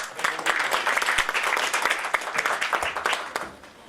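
An audience at a technology conference in Costa Rica applauds to welcome a speaker, a moderately loud round of clapping with distinct individual claps that tapers off at the end.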